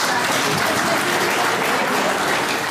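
Loud, dense applause from a crowd at a railway employees' camp event, continuous and close, filling the space with no talk over it.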